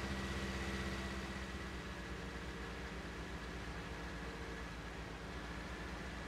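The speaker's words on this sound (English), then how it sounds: "Gotta love this old International tractor" An old International tractor idling in Farming Simulator 19, a steady low engine drone that stays even and continuous throughout.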